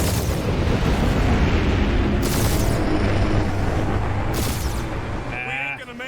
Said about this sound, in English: Blow up the bombs.